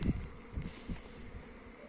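Bees buzz steadily around the hive, a dense insect drone with a few louder passes of individual bees flying close by.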